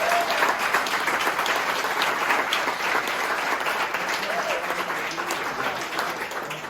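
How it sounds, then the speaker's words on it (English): An audience applauds after a talk on wolves, a broad continuous roll of clapping from a seated crowd, fairly loud and steady before gradually easing off near the end. "Let's go ahead and give a big round of applause."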